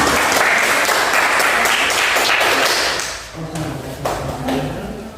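A classroom audience claps for group 2 in a dense burst of applause that fades after about three seconds, followed by scattered taps and light background noise.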